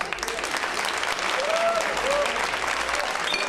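Nightclub audience applauding, dense steady clapping from a crowd filling the room, loud throughout with a few faint voices and whistles mixed in.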